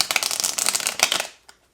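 Tarot cards are shuffled in quick riffling bursts, a dense papery flutter for over a second that stops abruptly, followed by one soft tap.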